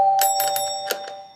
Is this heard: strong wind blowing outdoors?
no